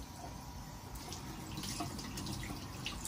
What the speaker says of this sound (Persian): یه هر دفعه کمی آب میریزیم روش